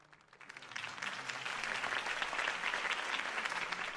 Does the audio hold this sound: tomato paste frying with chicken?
no